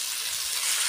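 Garlic and grated tomatoes fry in a pan while meat is being cooked, giving a brief, close, steady sizzle with no other sound.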